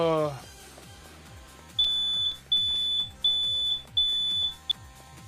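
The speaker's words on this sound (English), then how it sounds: "What's with the smoke alarm?" Repeated high-pitched smoke alarm beeps inside the video game NieR Replicant, four evenly spaced electronic chirps over a steady low rhythmic background, loud and clear, with no talking over them.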